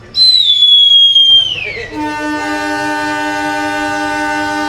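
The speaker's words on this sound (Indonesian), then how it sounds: "kereta api Serayu diberangkatkan dari stasiun Sidareja" A Serayu passenger train departs Sidareja station in Indonesia: a loud, high horn blast sounds for about a second and a half, then gives way to a steady droning engine hum.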